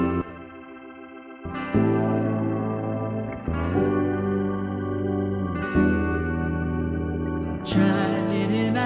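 Sustained organ chords layered into a song's chorus, held tones changing every couple of seconds with effects and reverb, playing alone.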